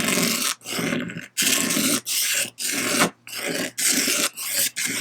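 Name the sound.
scraping weathered outer layer off jet ski plastic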